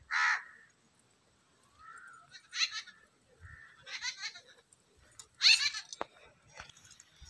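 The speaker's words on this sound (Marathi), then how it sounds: "पक्ष्यांची किलबिलाट किती भारी" Crows caw in the Shoolpani forest near Kathi village, a handful of separate, fairly faint calls spaced out over several seconds against a quiet background.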